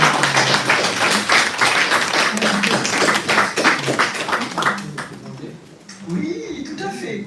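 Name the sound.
audience applauding guests from Lorraine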